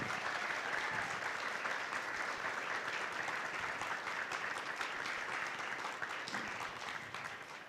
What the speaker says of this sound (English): big round of applause for the search team